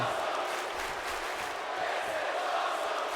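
Steady roar of an arena crowd cheering during a women's wrestling match in the WWE 2K18 video game, a dense continuous wash of voices that holds at an even level for the whole stretch.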